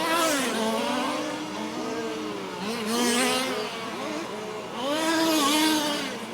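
Race cars on a dirt oval track accelerate hard together, engines wailing through rising revs in repeated waves as they pass close by, loud and continuous.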